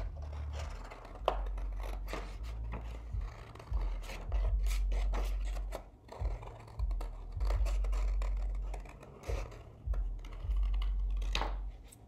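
Scissors snip and rasp through paper while cutting around marked lines for a paper sculpture, a close, repeated cutting and rubbing sound with short breaks between strokes.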